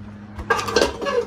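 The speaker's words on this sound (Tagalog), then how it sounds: "kunin natin tong ating paglutuan dito sa ilalim" Metal cooking pan pulled out from a storage space under a kitchen counter, with a quick series of close clanks and clinks as it knocks against other cookware, then a short bright ring.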